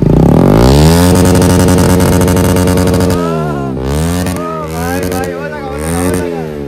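A Bajaj NS 125 motorcycle fitted with a new aftermarket exhaust revs loudly up close, one long climbing rev followed by several shorter throttle blips and drops.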